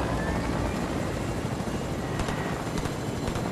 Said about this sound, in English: Michael, I'm gonna hit it with a helicopter and grab it, okay?